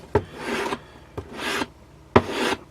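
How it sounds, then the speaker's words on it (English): Masking tape on wood is burnished down with a copper-faced mallet, three short rasping rubs each opening with a sharp tap, close and alone. "So all you want to do is you want to burnish the masking tape down,"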